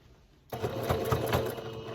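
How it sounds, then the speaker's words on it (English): Sewing machine stitching a pleat on a cloth face mask starts up after a quiet moment, then runs in a steady, rapid mechanical whir with a rhythmic needle pulse close by. "Sew to the edge of that pleat."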